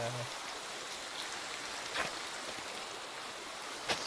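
Steady rain falls in Minecraft survival mode, a continuous even hiss of drops with a couple of faint brief clicks and no talk over it.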